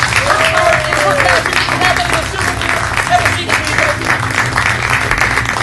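Loud, dense applause from a live audience after a card magic trick, continuous clapping filling the room with faint voices and cheers mixed in underneath.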